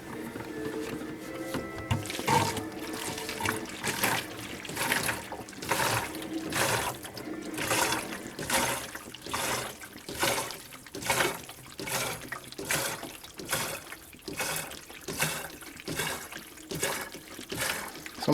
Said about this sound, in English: I'm using a kerosene siphon pump to pump the slurry